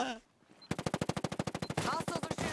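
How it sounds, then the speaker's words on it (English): Rapid automatic gunfire from hostiles in a video game, a steady burst of about twenty evenly spaced shots after a brief quiet gap, loud and close, with game sounds continuing afterward. "Hostiles are shooting."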